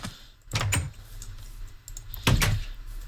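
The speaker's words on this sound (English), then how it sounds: "So I have a door in this pen so I can actually get in." Two short wooden door clunks from a pen door in Minecraft with the Jurassicraft mod, a pair of quick knocks spaced about two seconds apart over quiet game ambience.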